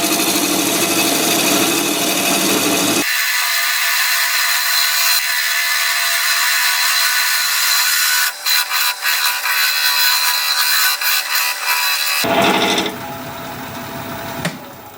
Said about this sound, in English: I'm just going to use this parting tool to square up this end here.